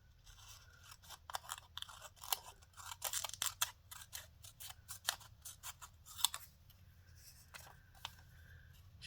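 Scissors snip through a paper template in a run of crisp, close cuts, sometimes rapid and clustered, sometimes spaced apart with short pauses, and no voices.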